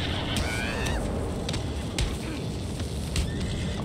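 A horse in Red Dead Redemption 2 whinnies in a quick rising-falling call near the start, with scattered hoof thuds over a dense, steady game soundscape.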